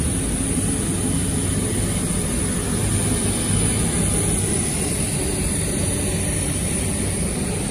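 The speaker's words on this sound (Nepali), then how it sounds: "ल ठ्याक्कै आइसक्यो प्लेन नि।" A passenger jet's engines drone at an airport, a steady loud low roar with a high whine above it, continuous and close, with no talk.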